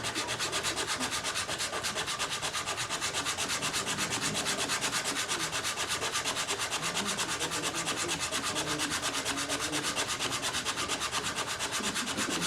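Steady, continuous rubbing of sandpaper on wood by hand, close and loud, with an even back-and-forth rhythm throughout and no talking.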